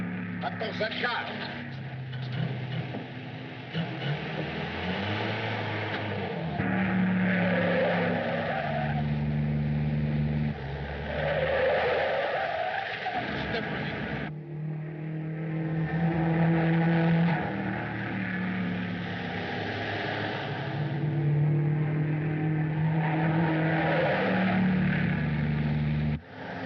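A car races along in a fast chase through a dark city, its engine roaring and surging in waves, with dramatic orchestral music playing loudly over it.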